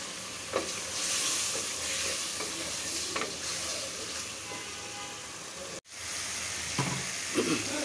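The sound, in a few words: sautéing spice masala with magur fish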